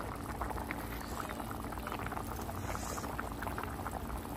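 Meat and potato curry simmering in a pot over a wood-fired stove, a steady close bubbling and gurgling that runs continuously without pause, with no talking.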